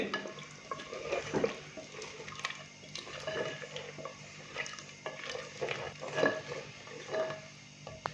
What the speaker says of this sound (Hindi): दही डालने के बाद अच्छे से मिक्स करेंगे।